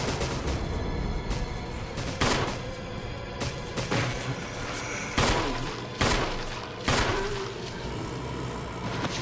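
Gunshots in the Resident Evil Remake, several loud separate blasts spaced a second or two apart over a dense, noisy game background, with no talking.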